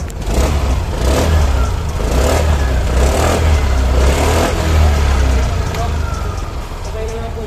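Engine of a 2023 Suzuki Burgman EX scooter revved several times with the throttle during a pre-delivery inspection, a loud, steady low drone with repeated swells, and a voice talking over it.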